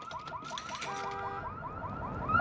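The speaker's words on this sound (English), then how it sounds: "tries setting off the store owner's car alarm" A car alarm in a TV drama sounds steadily for the whole stretch, a repeating electronic whooping pattern over background noise, with no talk.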